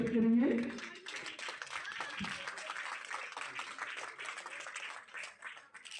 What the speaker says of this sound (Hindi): जोरदार तालियों से स्वागत करते रहिए।